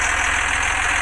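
A heavy tractor engine idles steadily at close range, a continuous dense rumble with no talk over it.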